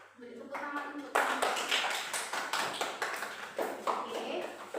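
Students clap in a classroom during a lesson, a burst of brisk, overlapping claps that starts abruptly and holds steady at a moderate distance, with faint speech-like tones before it begins.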